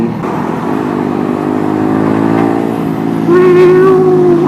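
A motorcycle engine drones steadily under throttle, loud and close, its pitch rising slightly before a higher, harsher surge near the end.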